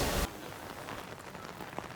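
Rain pouring in Singapore's Chinatown beside a food market, starting with a loud close burst of heavy splashing, then settling into a steady, softer patter on surfaces with scattered drips, no talking.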